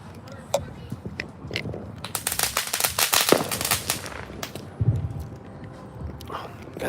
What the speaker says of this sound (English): fireworks, shooting fireworks